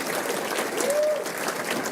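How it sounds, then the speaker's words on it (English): Steady audience applause at a county sports hall of fame ceremony honoring a girls swim team, a dense even clapping wash with a faint voice briefly over it. "a round of applause for that team"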